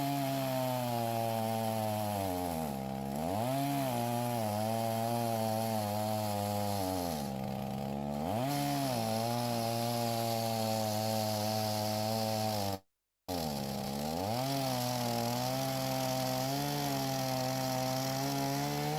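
A chainsaw cutting firewood runs loud and steady, its engine pitch dipping and rising under load a few times, with a brief cutout near the end before it roars again.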